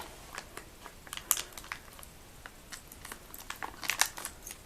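Plastic bag being ripped open by hand while unpacking Gmade RC air system rims and tires, a quiet run of crinkling, tearing rustles with sharper crackly bursts near the start and toward the end.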